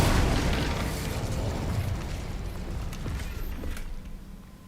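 An Incendio fire spell cast in Hogwarts Legacy bursts out as a loud, roaring blast of noisy fire that stays dense for a few seconds, then slowly thins.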